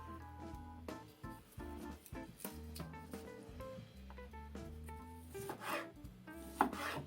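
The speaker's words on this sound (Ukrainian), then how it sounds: "Для початку нарізаю зелені помідори." Repeated knife cuts slice through firm green tomatoes on a board, irregular strokes heard close up over soft tonal background music.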